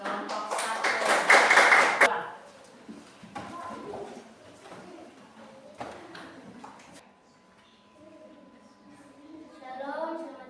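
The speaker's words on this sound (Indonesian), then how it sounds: "tepuk tangan untuk kelompok 1" Classroom applause for the first student group, a short burst of clapping in the opening two seconds that quickly fades, followed by quieter room sounds and faint movement.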